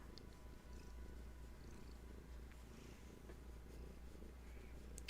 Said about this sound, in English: Yes, just purring away.